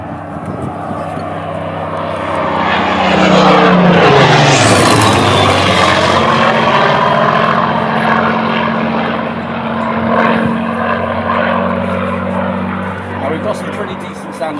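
A Merlin-engined propeller aircraft roars past close by, its engine note swelling and then dropping in pitch as it passes, with a deep steady drone continuing after.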